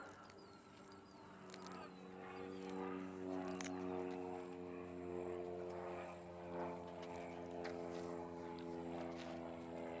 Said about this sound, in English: It's a lot of work flying those aircraft